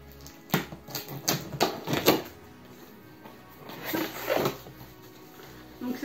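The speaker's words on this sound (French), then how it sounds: "je vais ouvrir ce colis avec vous" A cardboard parcel of grocery products is opened up close, with bursts of crackling, tearing and rustling in quick clusters, a pause, then more handling noises.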